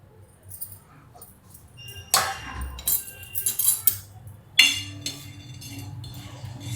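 Sago pearls roasting and being stirred in a pan crackle and pop, with sharp clinks and scrapes of a utensil against metal in irregular bursts, near and moderately loud, no voices.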